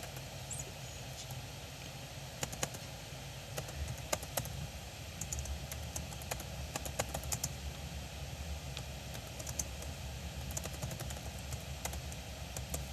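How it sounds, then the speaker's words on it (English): Quiet, scattered keystrokes clatter on a computer keyboard in irregular short bursts over a low background hum, faint and without speech. "I'm going to type it in so you can see."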